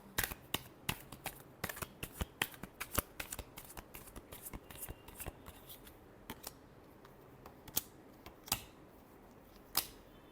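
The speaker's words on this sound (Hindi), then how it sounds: "last shuffle" Tarot cards shuffled by hand during a reading, a steady run of crisp riffling snaps and flutters, close and fairly quiet, thinning into sparser, sharper clicks toward the end with no voice over them.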